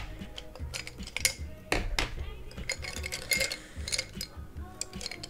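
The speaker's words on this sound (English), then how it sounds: "Sorry for all the noise. I'm getting all my pencils out." Pencils clatter and clink together in quick, irregular bursts as someone rummages through a container up close and takes them out.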